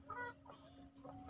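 Brood hens clucking softly at a morning feeding on a small farm, a few short, faint clucks in a quiet setting with a steady background hum.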